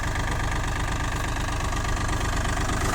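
A Yanmar F195 tractor engine idling evenly up close, a loud, steady diesel chug with a continuous knocking rhythm and no speech over it.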